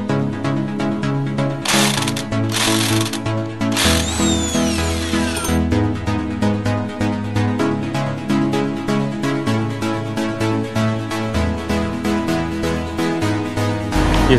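Mechanical work removing the nut on a Pulsar 135 motorcycle sprocket, with a coin wedged in to protect the gears: dense rapid rattling and whirring like a power tool, loud and close, with a few brief louder bursts early on.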